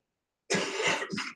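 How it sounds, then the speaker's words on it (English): A single short, harsh cough up close, breaking into two bursts, with silence before it. "Sorry about my cough."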